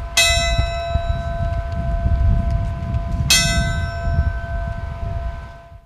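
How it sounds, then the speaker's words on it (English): A memorial gong or bell is struck twice about three seconds apart, each strike a bright clang that rings on with a long sustained tone over low background rumble. "we ring the gong and we have a moment of silence for each"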